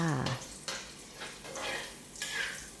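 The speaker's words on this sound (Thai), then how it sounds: "ตั้งกระทะนะคะใส่น้ำมันสำหรับผัดค่ะ น้ำมันร้อน จากนั้นใส่ด้วยกระเทียมนะคะ" Crushed garlic sizzles and crackles in hot oil in a pan in short bursts, with occasional stirring scrapes in between.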